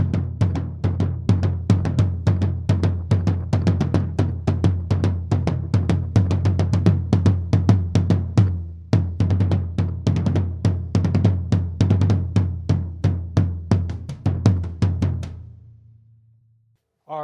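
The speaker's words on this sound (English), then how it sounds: "SM57 underneath the tom, the big 18. Here it goes like this." 18-inch tom drum miked from underneath with a Shure SM57, struck in a long steady run of booming hits with a short pause midway, loud and close, ending with a ringing decay.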